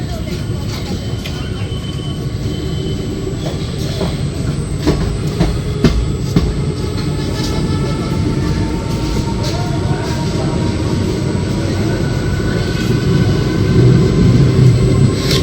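Black Diamond Express, an ICF train on the Dhanbad to Howrah run, rolls along after leaving Seoraphuli Junction, a steady loud rumble with faint rail clicks, heard from inside the coach with occasional voices in the background.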